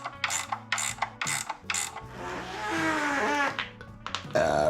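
A wrench ratchets down fender bolts on a Honda Fury motorcycle, with several short clicking bursts, then a longer grinding turn, close up and without talk.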